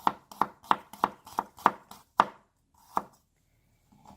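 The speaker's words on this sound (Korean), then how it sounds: "마늘을 다져 보겠습니다" Garlic being minced with a knife on a cutting board, a run of eight crisp, evenly spaced chops that slow near the end, close and clear with no talk.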